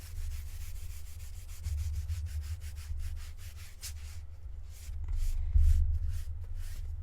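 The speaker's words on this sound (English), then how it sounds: "I always wax the chalk suede before I do any project." Chalk suede material being waxed by hand, a steady soft rubbing and scuffing with repeated strokes, close and fairly quiet, with no talking.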